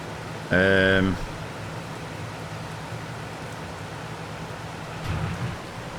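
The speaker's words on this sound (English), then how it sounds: "Oh, we've got a bit of rain. I don't see it, but I can hear it." Rain in Farming Simulator 22 gives a steady, even hiss throughout, with a brief tonal sound near the start and a softer one later.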